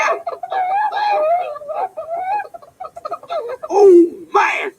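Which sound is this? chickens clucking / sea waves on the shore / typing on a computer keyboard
chickens clucking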